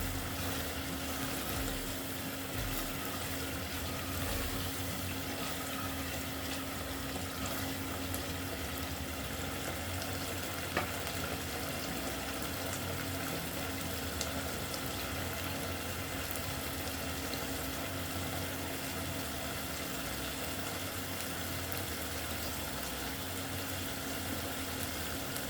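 Meat fries in released oil with an even, continuous bubbling hiss that holds steady and close throughout, with no voices.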